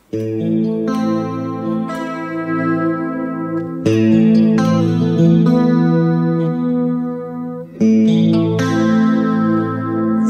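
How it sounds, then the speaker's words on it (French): Electric guitar played through a chorus effect, with shimmering sustained chords and rich harmonics, loud and close, with phrase changes near four and eight seconds. "Ça, c'est un son de chorus."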